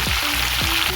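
Cut eggplant and potatoes fry in hot oil with chilli and garlic, a loud, dense, continuous sizzle with a couple of low scraping stirs, no voices.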